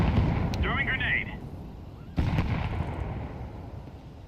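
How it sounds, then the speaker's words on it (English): A grenade goes off in a team shooter video game, with a sharp, heavy blast followed by a second booming hit a moment later, loud and rumbling under ongoing game noise. "Throwing grenade."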